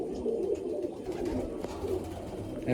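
Pigeons in a loft coo in low, repeated rolling calls, fairly close and steady against a quiet background.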